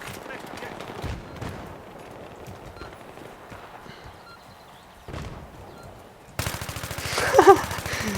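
Gunfire in the video game Pole Bitwy 3, with scattered shots early on, then a dense burst of rapid automatic fire near the end. It is fairly loud and runs with no clear talk over it.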